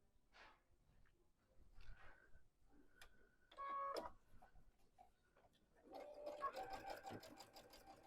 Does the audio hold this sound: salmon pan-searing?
no